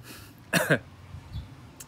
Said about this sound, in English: if it's potent, it'll actually make you cough a little bit